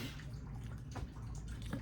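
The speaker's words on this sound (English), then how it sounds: "we got water, as y'all can hear it trickling behind me" Tap water left trickling to keep pipes from freezing during a cold week, a faint steady splashing and dripping with a few louder splashes, heard alone at low level.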